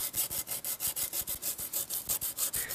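Rust is sanded off the body of a Toyota GT86 in brisk back-and-forth strokes, a rhythmic scratchy rasp repeating about five times a second, close and steady with no voices.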